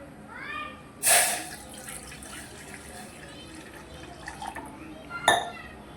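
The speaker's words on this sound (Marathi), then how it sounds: "पातेल्यात घेऊ आपण पाणी घालून" Water poured into a cooking pot, about two glasses' worth, for a gulab jamun sugar syrup; a quiet steady pour with a sharp clink of a glass at the start and another near the end.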